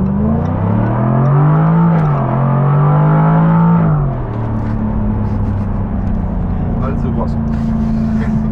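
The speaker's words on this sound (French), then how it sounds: "On va déjà faire une petite accélération 0 à 100 km/h pour vous montrer ce qu'elle a dans le ventre." A supercar launches from 0 to 100 km/h with a strong, rising engine howl that climbs, dips briefly at a gear change, then climbs again before settling into a steady, lower drone as it cruises.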